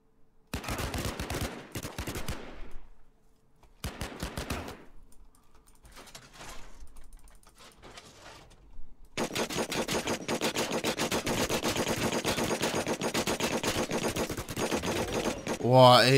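Rapid automatic gunfire from the Last Man Standing video game, bursts of shots early on, then a long sustained stretch of dense, loud firing that swells near the end.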